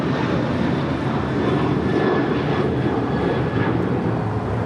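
Airliner taking off from runway 25 right at LAX, a loud, sustained engine roar heard from a distance, steady and broad with a slight swell, no voices over it.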